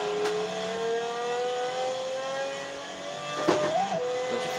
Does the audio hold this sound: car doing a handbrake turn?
yes